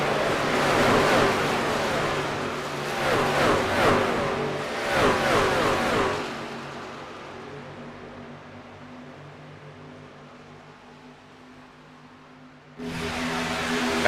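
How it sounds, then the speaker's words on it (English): Loud race-truck engines roar past close by in quick succession at Auto Club Speedway, surging and fading, followed by quieter rumbling before another truck swells in. "Hearing the roar of the engines as these trucks just rip right by."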